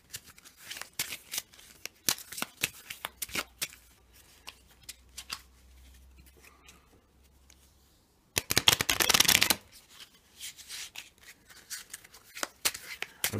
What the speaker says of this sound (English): I'm going to shuffle in the fight cards with the remaining punch cards